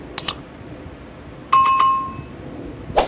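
A subscribe-button bell sound effect rings out alone in short bright dings: a quick double ding, a longer ringing chime with a fading tone, then one more ding at the end.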